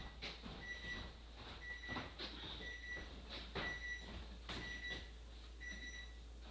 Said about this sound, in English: So it sounds like my timer's going off.